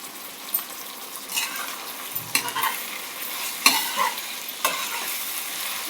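A spoon stirs dark soy sauce into a sauce frying in a pan, making a soft continuous sizzle with a few light clicks and scrapes of the utensil, close and fairly quiet.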